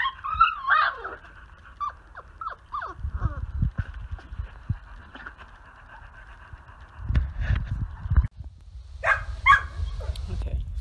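Young puppies whimpering, yipping and giving small barks in short, irregular bursts, close by, with a person talking softly between the sounds.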